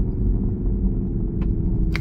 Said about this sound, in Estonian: auto hääl.